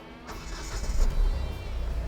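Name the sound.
Hyundai Venue diesel engine starting up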